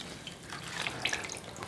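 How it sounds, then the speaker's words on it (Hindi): A wet towel is wrung out gently over water, giving close trickling and dripping with small spatters that rise and fall over a couple of seconds, with no voices. "और इस तरह से निचोड़ेंगे"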